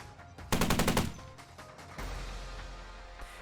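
Heavy machine gun, an NSV 12.7 Utyos, firing one short loud burst of about eight rapid shots, then a lower rumbling tail with no talk.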